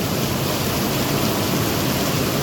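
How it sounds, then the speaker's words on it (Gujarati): Heavy downpour in Rajkot, a dense, even roar of rain, loud and close, with no voices or breaks. "હવે આવ્યો કાંઈક વરસાદ."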